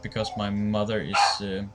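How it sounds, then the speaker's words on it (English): Dogs bark and yip close by, overlapping a person speaking briefly. "you can hear my dog and another dog in the background"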